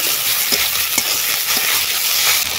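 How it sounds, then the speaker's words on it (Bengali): Ginger, onion and cumin paste fries loudly in a pan, a thick, continuous sizzle close up, broken by a few soft scraping stirs, with no one talking. "এবারে দিয়ে দেবো আদা পেঁয়াজ জিরে বাটা"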